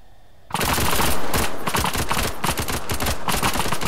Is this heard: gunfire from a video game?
yes